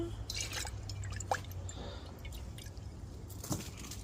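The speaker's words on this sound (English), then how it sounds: "Rinse the jar." Water is rinsed around inside a glass jar used for rooting fig cuttings. There are soft splashes and light drips against a faint background hum, quiet and close.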